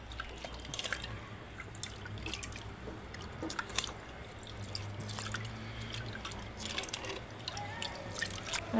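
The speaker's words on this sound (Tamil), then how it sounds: "அலசிட்டு தண்ணியை வடிய விட்டுறலாம்." Rinsed moong dal drains in a kitchen, with water trickling and dripping in irregular small splashes over a low background hum, fairly quiet and close.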